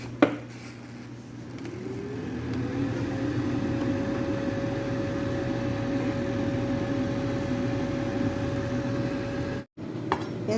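An air fryer with chicken inside starts with a click, then settles into a steady fan hum with a rising whine, running evenly until a sudden break near the end.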